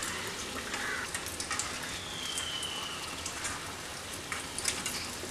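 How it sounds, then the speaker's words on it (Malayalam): Egg snack deep frying in hot oil, a dense, even crackling hiss, close and steady for the whole stretch with small popping bursts. "അപ്പം ഇതൊന്ന് ഫ്രൈ ആയി വരട്ടെ. തിരിച്ച് മറിച്ചും ഒക്കെ ഇട്ട് കൊടുക്കണം."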